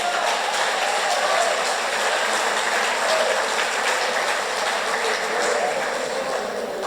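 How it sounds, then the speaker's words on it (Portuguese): A church congregation applauds during a Portuguese-language service, giving dense, sustained clapping that stays fairly loud and even from start to finish. "Salve de palmas para o Senhor Jesus."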